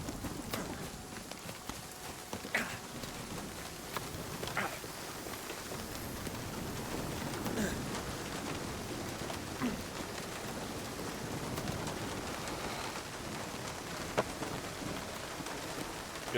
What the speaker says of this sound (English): Ow, I'm getting hit by hail.